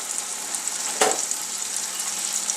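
Pot roast beef searing in a hot pan gives a steady, loud sizzle, with one brief sharp crackle burst near the middle as the meat settles.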